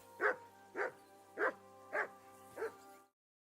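Dog barking in the video game Kingdom Come: Deliverance II, five evenly spaced barks about half a second apart, clear and moderately loud over a steady low ambient hum, then silence.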